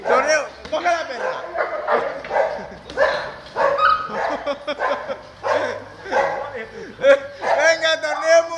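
A female dog barks and yips repeatedly at close range, sharp excited barks coming in bursts over lively shouting and talking from several people.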